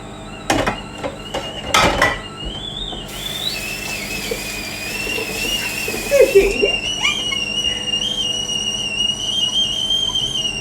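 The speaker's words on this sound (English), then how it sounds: "That's how it whistles when it's boiling." A pasta cooker boiling in a microwave gives a sustained, high, wavering whistle that rises in pitch and persists, following a few sharp knocks and clatters at the start.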